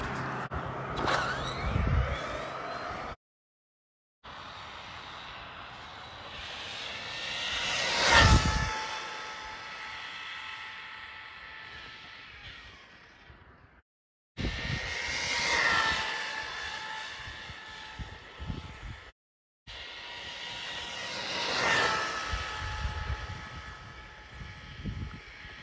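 Haiboxing 2997A RC car on a 3S LiPo battery making high-speed passes, each a sharp, whining electric motor buzz that swells and fades as it rushes by, several runs separated by brief silent gaps.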